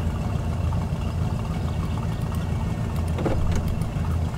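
A V8 car engine in My Summer Car runs at a steady, loud low rumble, idling and revving slightly with no one speaking over it.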